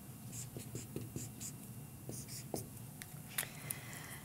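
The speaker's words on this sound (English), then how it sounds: "So let me write it here." Handwriting during a lesson on telling time with an analog clock: soft scratching pen or marker strokes in short bursts, fairly faint, over a steady low background hum.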